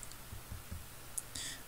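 A computer mouse clicking while working in FreeCAD, a few faint, sharp clicks spread over a quiet moment with no talking.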